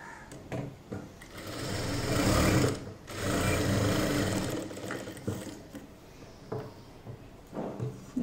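Sewing machine stitching the fabric of a churidar top, close and loud in several bursts of rapid whirring with short pauses and light handling noises between runs.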